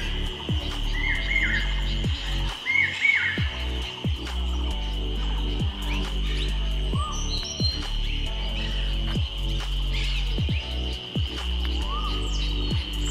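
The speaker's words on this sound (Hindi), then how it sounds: "कोयल की आवाज़ सुनते होगी, कितनी प्यारी लग रही है" Outdoors in the hills of Palampur, Himachal, a koel and other birds call in short repeated whistles and chirps over a constant high insect drone and low background rumble.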